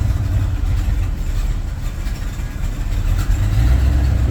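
A 1967 Bombardier wide gauge snowmobile engine running, a loud, close, steady low rumble that holds even and continuous, with no voices over it.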